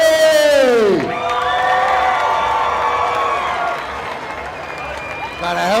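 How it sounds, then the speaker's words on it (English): Crowd at an outdoor fight night in Key West cheering and clapping beneath an announcer's amplified, drawn-out voice introducing a fighter, the crowd noise steady and moderately loud behind him. "Ladies and gentlemen, for our opponent, please put your hands up for Mike Petty!"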